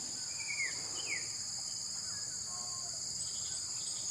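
A couple of short, sliding bird calls ring out early, then faint chirps follow over a steady high insect drone.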